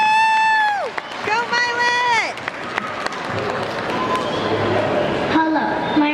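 Crowd applause and cheering for a young girl about to perform piano at a memorial and celebration of life, steady clapping filling the room after a shouted cheer and speech at the start.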